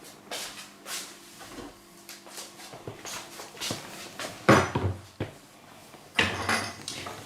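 Chickpeas, three and a half cups and skinned, tumble into a Vitamix blender while making hummus, giving a few clattering, rattling bursts among light kitchen knocks and dish clinks, with the loudest pours near the end.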